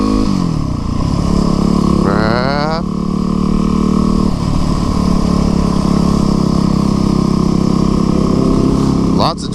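Street motorcycles ride at night, a loud close engine droning steadily with rising revs and gear changes, other bikes passing nearby.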